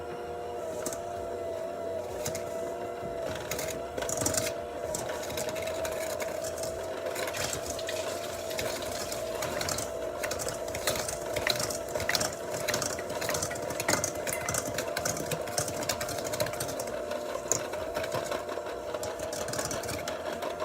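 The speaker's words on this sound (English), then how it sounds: "you want to start off with the hand mixer on a low speed, like at a 1 or a 2" An electric hand mixer on low speed creams butter and sugar for banana bread, a steady close motor whine and hum with beaters churning and scraping the bowl, continuous with no pauses.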